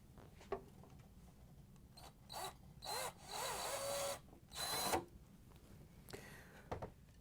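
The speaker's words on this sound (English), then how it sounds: "we're going to lift the ice container off and drill it into a piece of wood" Power drill boring a hole through a plastic ice container for a Whirlpool/KitchenAid/Maytag refrigerator, backed by a wood block: several short whirring bursts of varying length, close and moderately loud, separated by quiet pauses.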